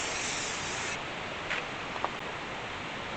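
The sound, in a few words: spray adhesive sprayed onto shelf liner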